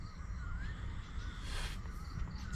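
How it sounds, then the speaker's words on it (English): Faint bird calls drift in from a distance, a few varied whistles and caw-like notes over a low background hum. "There's probably one bird out there. He just makes like 10 different sounds."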